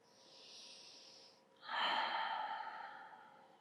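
Slow, deep breaths during a therapy ball self-massage session: a soft airy inhale, a short pause, then a louder, fuller exhale, close and alone with no talk.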